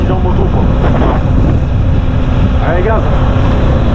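A motorcycle rides along a road in northern Vietnam, its engine drone blending with heavy wind buffeting across the microphone, steady and loud throughout, with faint tonal whines rising briefly.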